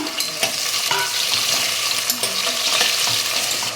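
Onions fry in a pan, giving a steady close sizzle broken by irregular scrapes and clicks from stirring, with no talking.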